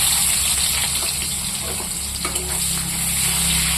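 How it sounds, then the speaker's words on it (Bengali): Loud, steady sizzling of onions frying in a hot wok, with a constant low hum underneath and no talking. "এখানে দিয়ে দিব পেঁয়াজ।"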